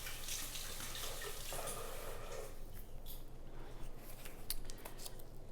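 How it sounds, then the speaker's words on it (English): Hands rinsed under a running kitchen tap while making a corn and feta dip, a steady close hiss of flowing water for several seconds with soft splashing and a few drips near the end. "Let me rinse my hand off."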